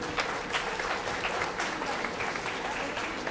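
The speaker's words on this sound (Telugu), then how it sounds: "అందరికీ గట్టిగా చప్పట్లు" An audience applauds children who recited shlokas at a music school summer camp's closing event, steady mid-distance clapping from a crowd lasting a few seconds without talk.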